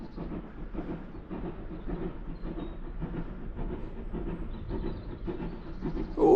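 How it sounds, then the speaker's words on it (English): A steam train passes nearby with a steady, heavy rumble and faint rhythmic clatter of wheels on rails, continuing unbroken throughout with no talking. "Oh, choo-choo train!"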